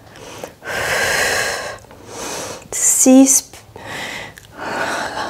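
Forceful, audible breaths during an intense full-body Pilates workout with weights and resistance bands come in rhythmic bursts, loud and close, while an instructor speaks briefly to count a repetition.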